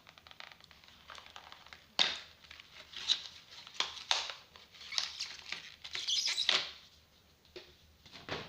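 Tape is peeled off a cosmetics package in a series of short, crackling rips and tearing bursts, close and fairly quiet, with brief pauses between pulls.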